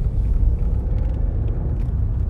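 A car pulls away from traffic lights on a UK road, a low engine rumble heard from inside the cabin, steady and close with no speech.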